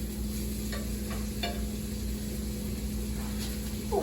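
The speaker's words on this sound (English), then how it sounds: "And I'm gonna stir that around. Just letting it saute." Rough-chopped garlic sautés in butter on a small hot plate, a steady soft sizzle with a few brief scraping stirs of the utensil against the pan.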